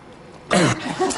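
A single harsh cough bursts out, followed by a rougher, throaty second cough, close and fairly loud against a quiet background.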